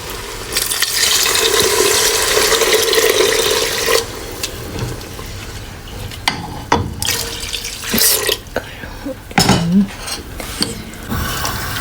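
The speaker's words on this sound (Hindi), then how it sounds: "अब मैं इसमें डालने लगी हूँ पानी" Water pours into a pot of black chickpea curry, a rushing stream for about four seconds, followed by scattered clinks, stirring and splashing sounds.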